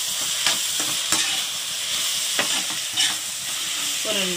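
Garlic, onion and curry leaves sauté in a pan for egg thokku, a steady close sizzle broken by several sharp scrapes and clinks of a spoon stirring, with no voices.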